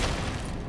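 An ice spell being cast in the Hogwarts Legacy video game, heard as a short, loud whooshing burst with a crackling, low booming body that fades quickly.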